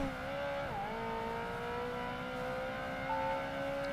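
A Ferrari engine in Project Gotham Racing 2, driven on a wet track, holds a steady high drone throughout, with a brief dip and recovery in pitch near the start as the car shifts or lifts, then sustained revving.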